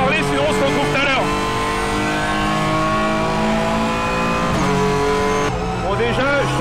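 Ligier JS2 R V6 sports car engine running steady behind the seats, a sustained rich drone with strong harmonics throughout, heard from inside the cabin while someone talks over it at the start and end.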